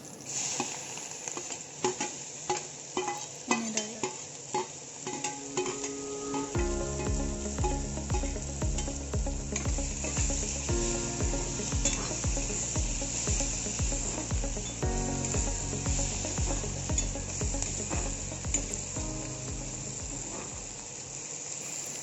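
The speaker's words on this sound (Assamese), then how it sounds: "পিঁয়াজখিনি আমি এতিয়া ৰঙা হোৱালৈকে ভাজিম" Onions sizzle steadily in hot oil with bay leaves, frying until browned, a constant crackling hiss, with background music playing over it for most of the time.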